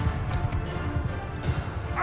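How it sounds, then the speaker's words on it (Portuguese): Cavalry horses gallop in a large Mount & Blade 2 Bannerlord battle, a steady low drumming of hooves with dull thumps running throughout, fairly close and continuous. "Horse bowmen! Follow your sergeant!"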